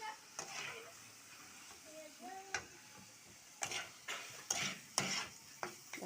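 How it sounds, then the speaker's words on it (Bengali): Potatoes and liver fry in a pan with turmeric and dried chilli powder, giving a faint steady sizzle broken by soft scraping and the clicks of a spatula. "এই যে দেখো শুকনো লঙ্কার গুঁড়ো সব কিছু দিয়ে ভাজা হচ্ছে।"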